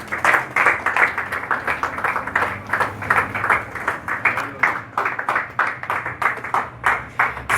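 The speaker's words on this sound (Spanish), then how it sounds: "dele un aplauso al Señor" Church congregation at a Spanish-language sermon clapping together in a steady, fast rhythm, loud and close, with many hands in sync and no speech over it.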